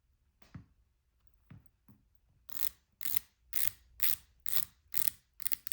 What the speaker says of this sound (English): Bezel action is fine